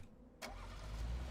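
Car engine in the video game PUBG starting up, a short burst followed by a low, steady idle rumble that builds slightly.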